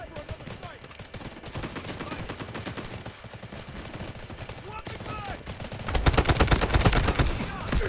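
Dense automatic gunfire in the online shooter Delta Force, rapid machine-gun bursts that grow louder and heavier toward the end, close up, with players' voices talking over the shooting.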